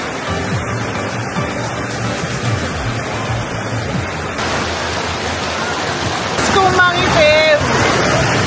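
The Nambalan River in Mayantoc, Tarlac rushes steadily in a loud, continuous wash of flowing water, with a voice speaking over it near the end.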